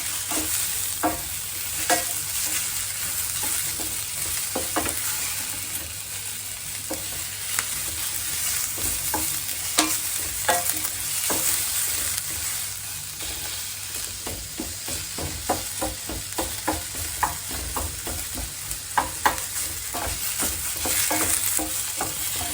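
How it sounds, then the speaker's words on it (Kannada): Village-style mushroom curry ingredients fry with a constant close sizzle in a pan while a spoon scrapes and stirs in a steady, repeated rhythm throughout. "ಒಂದು ಹಸಿ ವಾಸನೆ ಹೋಗೋವರೆಗೂ ಫ್ರೈ ಮಾಡ್ಕೊಂಬಿಡೋಣ."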